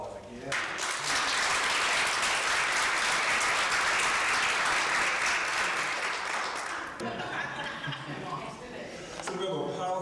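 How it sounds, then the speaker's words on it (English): An audience at a child welfare convening in Oregon bursts into sustained applause for its leaders, dense and loud for several seconds before tapering, with a voice beginning to speak near the end. "Give those leaders a round of applause."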